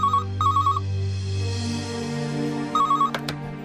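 A telephone rings in repeated electronic double trills, clear and close, with a quiet gap before the ringing resumes, over a low droning background.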